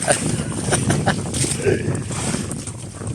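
Strong wind roars steadily across the microphone on a fishing mother boat at night, with water rushing underneath and a voice faintly audible in the gusts.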